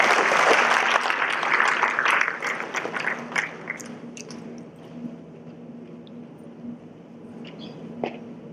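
An audience at a college foundation programme applauds the chief guest, a burst of clapping that is loud for the first couple of seconds and then thins and fades into a quiet hall, with a few stray claps after.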